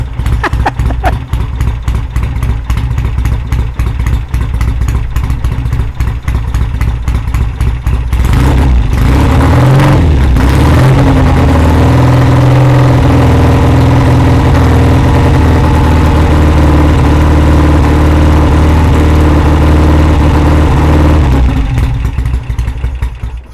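A Triumph motorcycle engine runs loud and close, a steady throbbing idle with a brief swell in revs partway through. No speech can be picked out over the engine.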